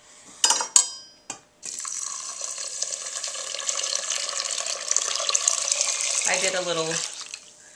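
Warm tap water runs steadily into a pot holding two cups of steel cut oats, a continuous hissing pour lasting several seconds after a few short clinks, with the tone shifting as the pot fills and a voice speaking briefly at the start.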